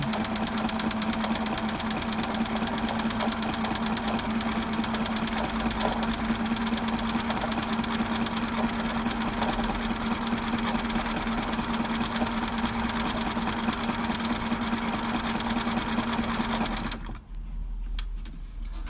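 A sewing machine stitches a rope bowl, running loud and steady with a constant motor hum and rapid needle rhythm for about seventeen seconds before stopping abruptly, leaving a faint rumble.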